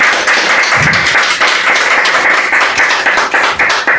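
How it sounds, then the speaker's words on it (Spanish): Church congregation applauding together at a charismatic evangelical service, a dense, steady wash of many hands clapping that fills the room loudly from start to finish with no talk over it. "dele un aplauso al Señor."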